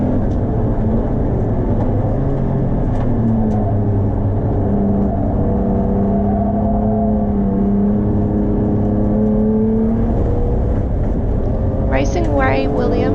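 A rally car at ERC Taupo, a Piranha, races past close by, its engine rising and falling as it passes under steady loud commentary.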